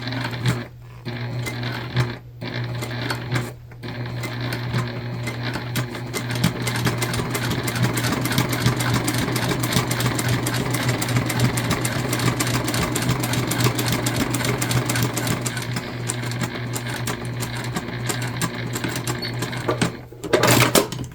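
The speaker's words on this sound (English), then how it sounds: "Don't want to skip a stitch on this pretty top stitch." Sewing machine running a long top stitch along a vinyl shoulder bag, a steady close mechanical whir with rapid needle rhythm that holds for about twenty seconds, pausing briefly near the start.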